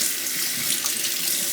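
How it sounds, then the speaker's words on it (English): Running tap water splashes steadily over a sharpening stone being rinsed at a sink, a continuous close hiss and patter with no talking. "I'm just gonna rinse off the stone again"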